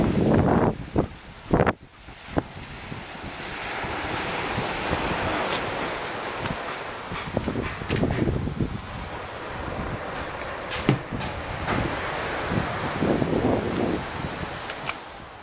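Beach surf rolls in steadily under gusting wind buffeting the microphone, a continuous broadband wash with occasional louder gusts and no talking.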